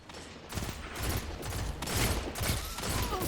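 A pulse rifle in Destiny 2 player-versus-player combat fires quiet, repeated bursts. The shots come in a steady rhythm of clustered pops set in a busy game soundscape, with no talking.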